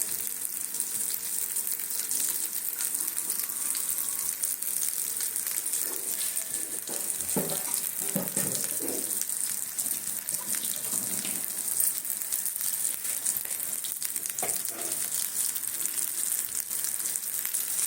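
Fritters (bora) frying in hot oil in a home kitchen give off a steady, close sizzle and crackle, with a few louder bubbling bursts partway through and no voices over it.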